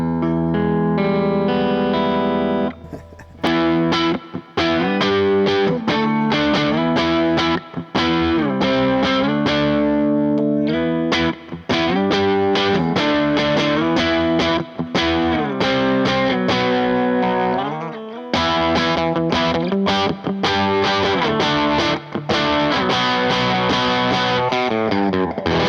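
An Epiphone Flying V 70s electric guitar played through heavy distortion, loud strummed chords and riffs ringing continuously with only brief pauses, up close and with no talking.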